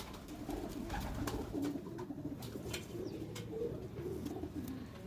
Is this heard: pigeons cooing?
yes